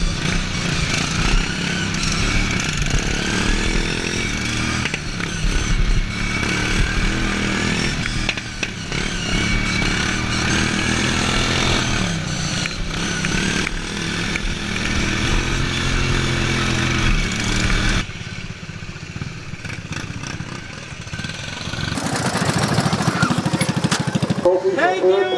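Hand-built racing lawnmowers roar around a track in Saco, Maine, their small engines buzzing loud and continuous with revving pitch changes, a brief dip near the end before the whine returns.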